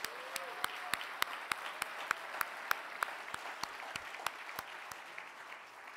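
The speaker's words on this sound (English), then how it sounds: "I wanted to have another round of applause for everybody." An audience applauds at a USC APAA scholarship and awards gala, with steady, evenly spaced claps ringing through the hall at a moderate distance.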